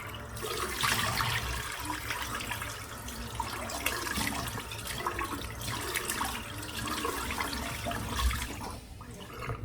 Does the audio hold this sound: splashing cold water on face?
yes